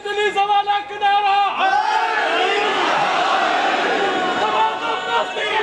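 A large crowd at a Shia majlis in an imam bargah in Pakistan roars a religious slogan in unison, following a leader's sung line; the chant swells loud and sustained, then fades.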